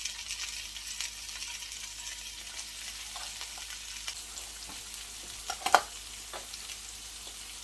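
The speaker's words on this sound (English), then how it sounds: "We're going to add some more olive oil. And we're going to add in our peppers." Peppers fry in olive oil with a soft, steady sizzle and occasional quiet clicks and scrapes, one sharper knock midway.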